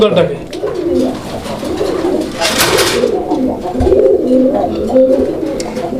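Raj-golla pigeons coo steadily with low, rolling calls close by, while people talk over them throughout.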